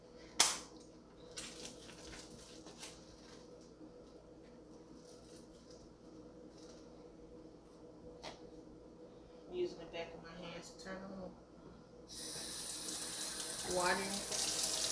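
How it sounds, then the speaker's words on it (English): Water from a kitchen faucet turns on near the end and runs steadily, following quiet kitchen handling noises and a few sharp clicks and knocks during cooking prep. "Using the back of my hands to turn on water."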